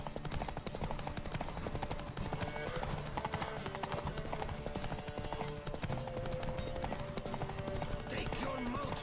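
Rapid rhythmic hoofbeats of a horse galloping at full speed in The Witcher 3 video game, steady and continuous over game sounds and background music.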